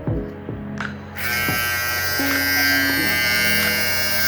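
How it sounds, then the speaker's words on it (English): A very small electric hair clipper switches on after about a second of quiet handling sounds, then gives a steady, close, high-pitched electric buzz that runs without a break to the end, with no talk. "This is the clipper itself. This is very small."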